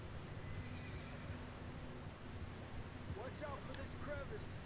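A horse whinnies twice near the end of a Red Dead Redemption 2 gameplay scene, over a steady low rumble of hooves and ambient game noise, faint and fairly close.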